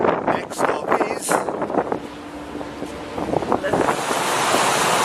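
Gale force 8 wind roars over the Arabian Sea as waves crash and surge, a loud continuous rush with heavy wind buffeting the microphone and breaking surf building toward the end.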